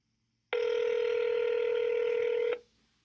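A telephone keypad sounds a single steady dialing tone that holds for about two seconds and then cuts off, loud and clear with no voices.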